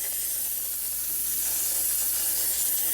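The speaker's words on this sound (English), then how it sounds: "So there's the steam." Steam from a cheap Amazon steamer hisses continuously and loudly at close range, a steady broadband rush with no voices.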